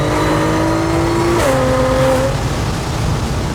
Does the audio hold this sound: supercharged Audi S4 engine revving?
yes